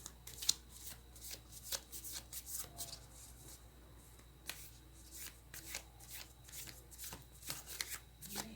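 A deck of tarot cards is shuffled by hand in a quiet room, giving repeated crisp riffling bursts and soft flicks in an uneven rhythm, close and fairly faint, with no talking.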